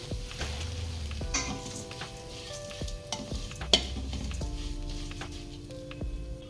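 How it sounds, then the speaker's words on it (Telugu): Flattened rice (poha) frying in ghee for a sweet halwa, an even crackling sizzle with repeated spatula stirs and scrapes against the pan, one sharper clink partway through. "ఇవి నెయ్యిలో బాగా వేయించుకోవాలి."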